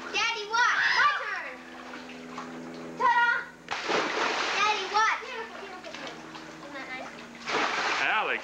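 Children's voices ring out around a pool at Little Harbor as a child dives in, followed by several loud, close splashes of water, with more splashing and shouting in between.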